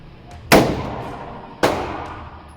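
Two loud gunshots at an indoor gun range in Dallas, Texas, each a sharp crack with a long echoing decay, spaced about a second apart.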